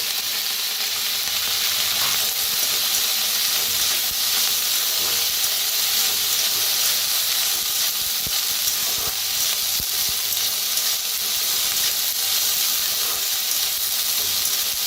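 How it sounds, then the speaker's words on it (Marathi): Chickpeas roast in oil in a pan, a loud continuous frying sizzle and hiss throughout with a few faint scrapes and no talking. "थोडंसं तेल ओतून भाजून घेऊया। ह्याच्यातच टाकूया हरभरा बी"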